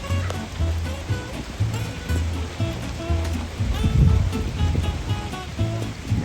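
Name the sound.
rain falling on a farm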